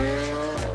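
A Lamborghini Aventador sports car's engine roars close by in a short, loud burst, its tone dipping sharply near the end.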